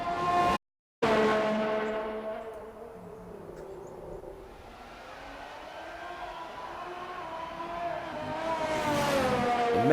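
Ferrari race car engine in a racing video game, screaming through high revs with a sharp gear-change dropout near the start, easing off mid-lap and then climbing back up to a loud, whining pitch.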